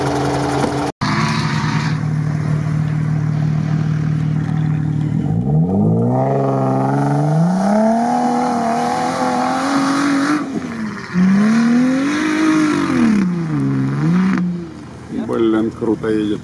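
An off-road truck drives hard over rough terrain at an off-road event, its engine loud and close, revving up and down in repeated swells, with voices faintly in the background.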